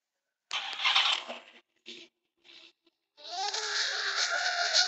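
Dodge Hellcat engine in a racing video game, revving in short bursts with brief gaps, then a sustained loud high-pitched engine whine, heard alone without talk.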